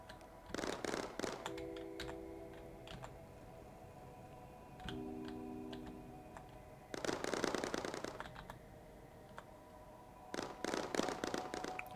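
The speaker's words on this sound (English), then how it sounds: "See, it's still firing at me." Turret fire in the video game Mindustry comes in three short rapid bursts of crackling shots separated by quieter stretches, with tonal game beeps in between and no voices.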